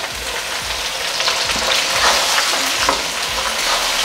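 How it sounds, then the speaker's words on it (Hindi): Garlic, ginger and onion fry in hot oil in a kadhai, giving a steady close sizzle with scraping stirs and small crackles running throughout. "इसी तरह से प्याज को हम लोग हल्का लाल होने तक फ्राई कर लेंगे"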